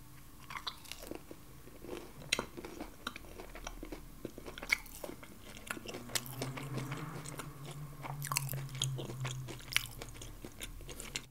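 Close-up crunchy chewing and biting of Korean fried chicken dipped in sauce, irregular wet crunches repeating throughout with no talking.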